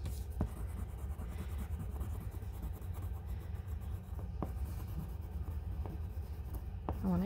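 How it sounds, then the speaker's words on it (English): Pencil or marker drawing a dark outline along the edges of a pop art donut picture on paper, a steady close scratchy rubbing stroke running the whole time with a few brief taps and no talking. "might draw a dark line along the edges too to separate the colors"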